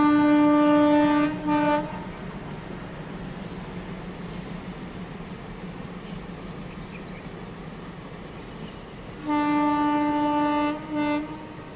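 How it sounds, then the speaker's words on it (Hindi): Passenger train passing on a rural line, with a loud sustained horn blast at the start and again near the end, separated by a steady rumble of wheels and cars rolling by. "रेल आ चुकी है। अब कौन सी है? पैसेंजर वाली है"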